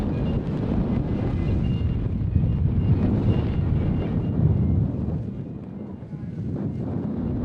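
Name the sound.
strong wind buffeting the microphone at a cycling race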